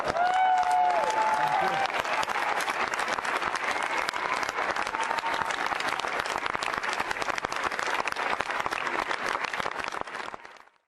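Sustained applause from a film premiere audience giving a long standing ovation, dense and steady clapping at full volume throughout, with faint voices early on, tapering off at the very end.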